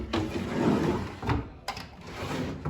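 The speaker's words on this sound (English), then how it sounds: "every time you open and close the drawer" A wooden drawer of a chest of drawers slides open with a rumbling glide, then pushes shut with a short knock, close up and fairly quiet.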